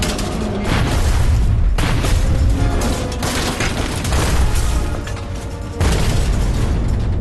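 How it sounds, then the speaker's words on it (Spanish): Depth charges fired from a warship explode underwater during a World War II submarine hunt, heavy booming blasts rolling one into the next, with sharp new bursts around two and six seconds, loud and close. "La primera serie cae al agua y explota."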